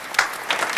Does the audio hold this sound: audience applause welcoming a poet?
yes